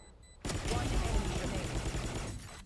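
Dense, rapid gunfire from several weapons fills a Valorant pro match between 100 Thieves and Leviatán, starting abruptly after a quiet moment and running loud and continuous for about two seconds before cutting off.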